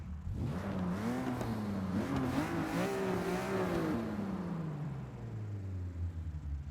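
A 1954 Jaguar XK120 SE in Forza Motorsport 6 revs its engine, the pitch climbing through several throttle blips, peaking, then sliding down into a steady low idle, close and clear with no talk.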